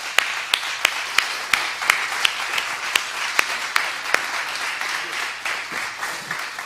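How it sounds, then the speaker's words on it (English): An audience applauds together at the end of an evening event. The applause is steady and fairly close, with sharp individual claps standing out above the wash, and it holds for the whole stretch. "Let's give them both a round of applause."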